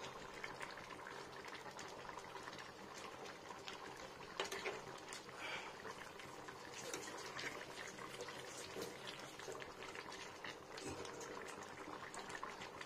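A pan of egg and pointed gourd curry with potato and tomato simmering on the stove, a soft continuous bubbling and popping of the gravy at low level, no speech.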